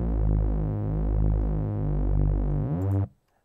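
A saw-wave bass synth patch with a studio EQ boosting its low end plays as a sustained, heavy, buzzing tone with a slow pulsing sweep, loud and alone, cutting off abruptly after about three seconds.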